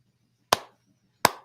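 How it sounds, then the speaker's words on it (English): Two slow, sharp hand claps about three quarters of a second apart, close and alone in an otherwise quiet room. "Slow clap, just like"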